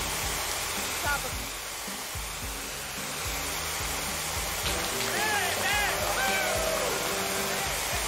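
Gas Station Simulator car wash: a high-pressure water spray hisses steadily against a car throughout, loud and continuous, with a voice faintly audible beneath it partway through.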